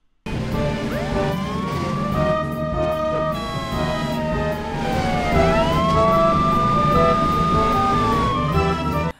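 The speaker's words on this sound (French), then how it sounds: "la sirène de police, le volume de la sirène de police va augmenter quand la voiture est proche" During a car chase, a police car siren wails loudly with clear rising and falling sweeps, its pitch bending as the car approaches and moves off, over engine noise with no talk.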